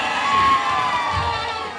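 A large crowd of party activists at a BRS political meeting in Hanumakonda cheers and shouts steadily to welcome a speaker, a dense continuous roar with whoops.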